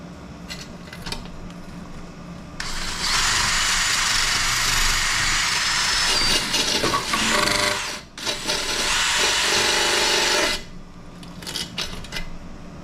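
Crud is scrubbed off a lawnmower flywheel near its magnet on a Curb mower, with a steady close abrasive rubbing and buzzing that runs for several seconds, briefly breaks, then resumes before stopping.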